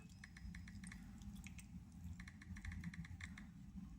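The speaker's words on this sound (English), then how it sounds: "nice clicky sounds, nice and responsive" Rapid, light keyboard clicks from typing on a Samsung Galaxy Note 5 smartphone patter unevenly in short bursts, fairly quiet and close, with no talking.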